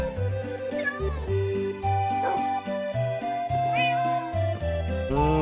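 In the Minecraft video game, a cat meows several times over looping background music with bright chiming notes. The meows are short and fairly clear, sitting on top of the music.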